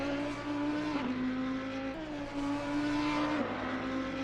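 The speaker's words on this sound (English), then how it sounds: "Sad M4 noises." A BMW M4 race car in a racing video game, on a 12-hour Nordschleife endurance event, holds a steady engine drone with shifting pitch, the note dipping and rising at gear changes, continuous and fairly loud with no talk.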